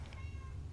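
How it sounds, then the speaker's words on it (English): A single short, faint meow from a cat, with low background hum and no talking. "I guess she's meowing because she hears my voice."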